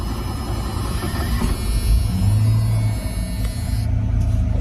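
A 1986 Ford F150 bullnose pickup with standard shift and 4x4, its engine rumbling low and steady while driving, a loud continuous drone heard from inside the cab.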